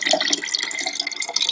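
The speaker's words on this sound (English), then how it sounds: "We're just going to add some plain water." Plain tap water pouring steadily into a container, a loud, close, continuous splashing stream.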